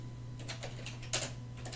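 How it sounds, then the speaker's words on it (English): Light tapping of keys on a computer keyboard, a few scattered soft clicks with a slightly louder cluster near the middle over a low background hum. "open your browser and type"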